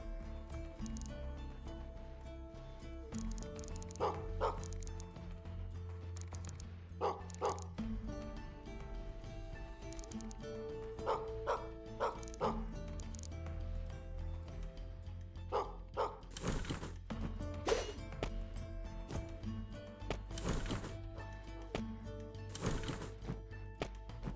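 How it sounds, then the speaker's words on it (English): A dog barks and yips repeatedly in short bursts in the steampunk video game Gestalt: Steam & Cinder, over steady background music with some soft whimpers. "I hear a dog."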